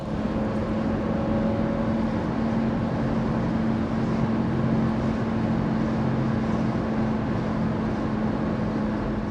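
Classic car cruising on the road, with a steady low engine drone and road rumble filling the cabin, a constant hum throughout and no talking.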